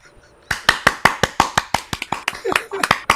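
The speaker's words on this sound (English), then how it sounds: "I'm clapping for you guys." A single person claps hands steadily to thank children after a storytelling session, about fifteen sharp, close claps in an even rhythm with a faint voice underneath.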